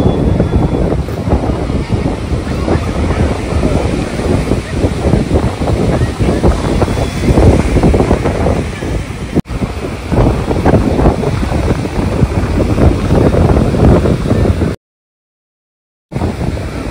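Surf at Puri beach rolls in as a steady, loud roar with gusty wind buffeting the microphone, one sharp dropout near the end, and no clear voices.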